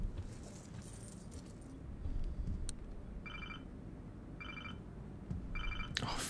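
Keys jangle in the Life is Strange video game, three short bright metallic bursts evenly spaced over a faint background hum, with a sharper clink near the end.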